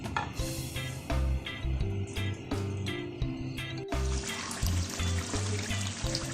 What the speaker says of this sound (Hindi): अब मैं इसको तब तक भूनूंगी जब तक ये इसकी ग्रेवी नहीं तैयार हो जाती है